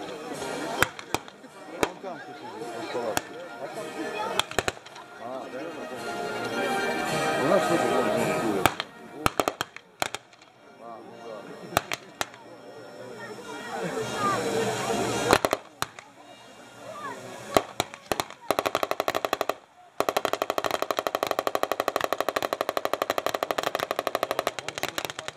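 Pyrotechnic blasts and sharp gunfire-like cracks at a 2019 reenactment of the Battle of Gumbinnen, scattered through a steady roar of outdoor noise, with a voice talking over much of it.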